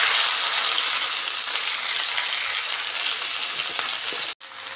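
Okra hits hot oil with mustard seeds and cumin in an iron tawa, producing a loud, steady, close hiss of frying that continues without pause and cuts out abruptly near the end.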